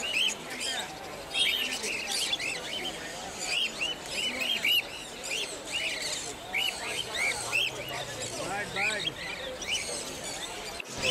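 Dense chorus of cockatiels and finches chirping and tweeting continuously at a Kolkata bird market, busy and close, with murmured voices in the background.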